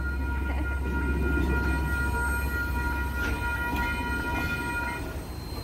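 A train passes over Maxwells Road level crossing in Tauranga. A steady, loud low rumble of rolling wagons fills the whole stretch, and sustained horn-like tones ring above it throughout.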